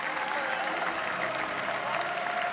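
Steady, dense applause fills a large arena at the Tokyo 2020 Paralympic boccia venue, a continuous wash of clapping from a sizable crowd with no break.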